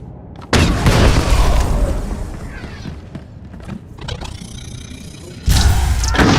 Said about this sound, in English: Careful! There are bombs everywhere!